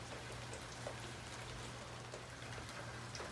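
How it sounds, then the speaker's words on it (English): Gutters drip in light rain, a dense soft patter of drops with a few closer splashes over a steady low hum. "Gutters are starting to drip a little bit now."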